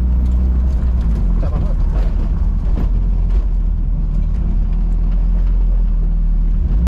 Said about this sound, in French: On entend plus la vibration de la transition des supports qui sont des supports moteurs durs